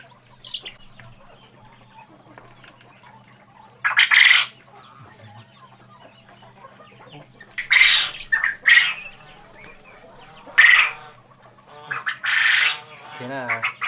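A quail clucking before laying an egg, giving short, sharp bursts of calls spaced a few seconds apart against a faint, steady background hum.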